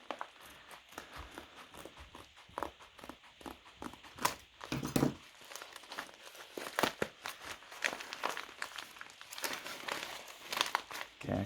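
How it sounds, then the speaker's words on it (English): Plastic packaging of an Anchor Lås 820-2 disc detainer lock crinkling and crackling as it is cut open with scissors, with scattered snips and rustles, close up and continuous. "So let's get a pair of scissors and see what's inside."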